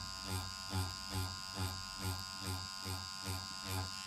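A permanent makeup machine used for powder brows buzzes steadily with a regular pulsing rhythm, running without pigment and tapping against latex practice skin, close and continuous.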